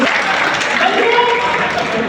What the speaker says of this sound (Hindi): मुख्यमंत्री नीतीश कुमार के लिए जोरदार तालियां